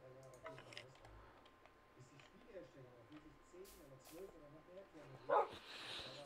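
A dog in the Minecraft video game barks several times in short yips, mixed under a person speaking German over in-game sounds.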